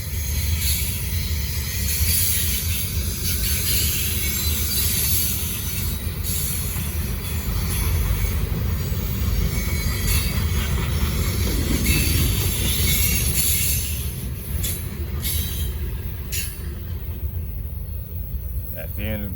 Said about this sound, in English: Put some power into the train.